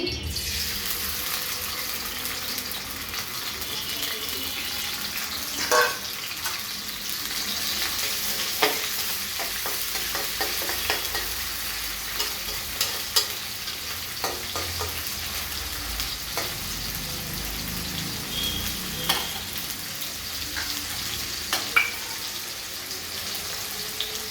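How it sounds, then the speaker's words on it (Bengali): Steady sizzling of chopped onions frying in white oil in a wok fills the clip, with occasional scraping and stirring clicks close by. "পেঁয়াজ ভাজা হয়ে গেছে।"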